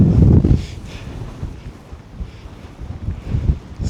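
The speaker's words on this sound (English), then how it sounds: "It's definitely a bit windy, as you can see." Gusty wind rumbles and buffets loudly near the microphone against a tent while wild camping on Dartmoor, rising and falling in bursts, with no voices.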